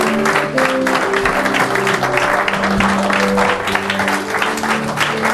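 A church congregation applauds steadily and loudly at a French-language sermon, dense clapping filling the room throughout with a sustained held tone beneath it.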